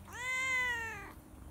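A domestic cat gives a single clear, drawn-out meow close by, lasting about a second, then quiet background follows.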